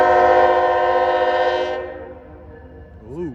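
A freight train's diesel locomotive, a Tier 4 GEVO, sounds its multi-chime horn loud and close in one long sustained blast that cuts off, leaving a fading rumble and a brief whistling tail.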